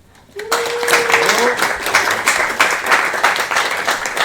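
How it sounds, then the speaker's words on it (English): A burst of applause and cheering erupts and continues steadily, with a sliding whistle-like tone near the start. "Give a big round of applause to Henrique."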